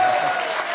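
Studio audience applause on a French television talk show, a dense, steady wash of clapping at full strength from start to finish with no voices over it.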